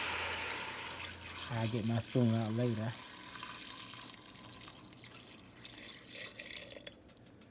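Water runs steadily into a pot for a homemade seafood stock, a continuous splashing pour throughout, with someone talking briefly over it.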